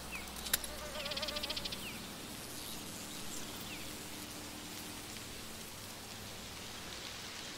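Bees buzz around flowers in the video game A Plague Tale: Requiem, a faint insect drone beneath a steady rain-like ambient bed, with one sharp click and a brief patter of small taps near the start.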